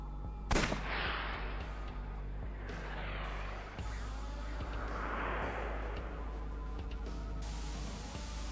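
A single gunshot in the video game AI: The Somnium Files, a sharp crack near the start followed by a low, eerie ambient drone and faint swelling tones.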